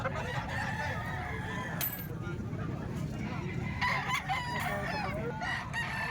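A Golden Boy sweater gamefowl rooster crows several times at close range, with clucking and other fowl around it and someone talking quietly in the background.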